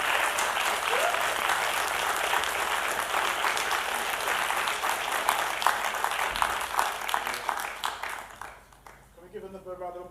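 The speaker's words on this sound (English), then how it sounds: "Can we give another round of applause, please, for Gaylene?" Sustained audience applause fills a conference hall after a leadership talk, dense steady clapping for most of the stretch, thinning out near the end while a voice comes through the fading claps.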